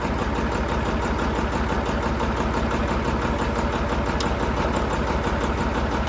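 A tractor engine runs steadily with a plough attached, a continuous loud mid-to-low rumble with an even idling rhythm throughout, heard alone with no talk.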